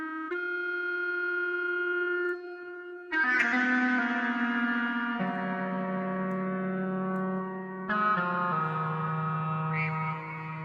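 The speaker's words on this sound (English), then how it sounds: "So let's add some reverb." A synth lead patched in VCV Rack with a Plateau reverb plays sustained, bright harmonic notes that step between pitches, each change leaving a long, washy reverb tail, with no voices.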